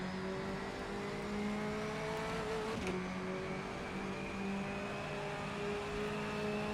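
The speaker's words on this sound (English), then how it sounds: "So you can clearly hear the engine on the right side" Subaru Levorg touring car engine in the rFactor 2 racing game, a steady droning whine held at roughly constant revs with a brief shift-like break midway, continuous and fairly loud with no talk.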